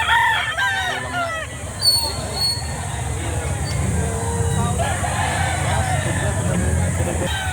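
At a Saturday chicken market in Lipa City, Batangas, a rooster crows loudly near the start amid other fowl clucking, with market babble and people talking underneath.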